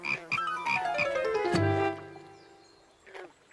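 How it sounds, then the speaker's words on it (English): A frog croaks repeatedly in a rapid, rhythmic series of calls, followed by a longer, deeper croak and then a faint trailing call, heard close and alone in a children's cartoon. "They're called tadpoles. They're baby frogs."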